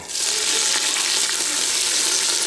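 Broth ladled into a hot pan of seared beef for a spicy beef stew, hissing at once into a loud, steady sizzle that holds evenly throughout with no talking.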